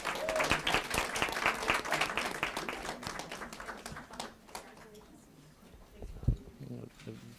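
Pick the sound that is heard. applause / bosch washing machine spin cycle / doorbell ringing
applause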